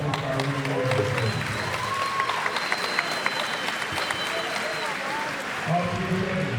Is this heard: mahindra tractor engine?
no